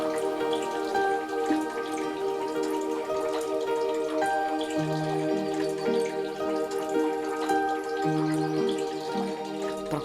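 Water runs steadily into stone troughs at a village spring beside a church on Kea, a soft continuous trickle and drip with no voices.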